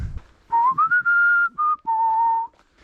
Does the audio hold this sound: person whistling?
yes